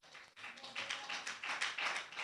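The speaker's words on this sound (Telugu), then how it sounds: "చప్పట్లు కొట్టు." Hand clapping from a group at a Telugu church gathering, a steady run of overlapping claps sustained across the clip with no clear pauses.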